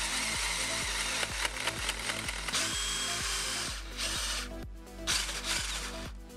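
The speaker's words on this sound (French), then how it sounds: "il faut encore percer les lisses pour passer à travers tout" A power drill bores through wooden wall plates during a ventilation duct install, the motor whining steadily up close with rapid rhythmic grinding as the bit chews into the timber, briefly easing near the end before biting again.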